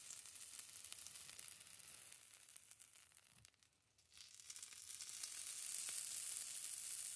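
Mirepoix hits a heated pan coated with fond and sizzles steadily and loudly, the hiss dipping briefly and then building to a fuller, brighter sizzle; no one speaks.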